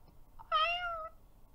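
A cat in the Roblox video game lets out one clear, short meow of about half a second against a quiet background.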